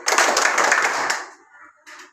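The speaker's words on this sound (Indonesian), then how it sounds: "Tepuk konsentrasi" A classroom of pupils does a rhythmic concentration clap, a burst of loud, tightly packed hand claps close by that stops abruptly, followed by a softer short sound.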